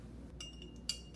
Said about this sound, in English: The hardest part is mixing the honey in.